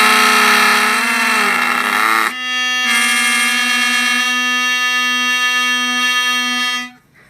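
Homemade bagpipe of a latex glove and plastic bag blown loudly close up, a buzzing reedy drone that wavers, cuts out briefly, then holds a steady tone before stopping abruptly.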